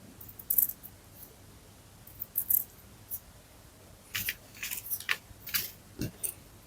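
Scissors snip the pile of a handwoven Persian carpet in a series of short, crisp cuts, scattered in quick clusters with pauses between them, close and moderately loud with no talking.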